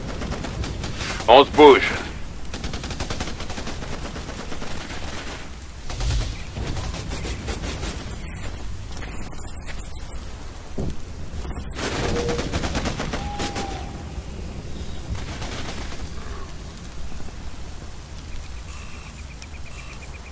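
Gunfire in the jungle shooter Raven Squad: scattered shots and short bursts, mostly moderate in level, with one louder pair of cracks early on, mixed with game ambience and a brief spoken line.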